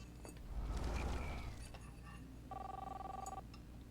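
Telephone ringing in the video game Life is Strange, a steady electronic ring tone lasting about a second, heard after some shuffling and clicking, fairly clear against low background hum.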